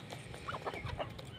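Chickens clucking close by, a quick series of short, overlapping clucks and soft squawks.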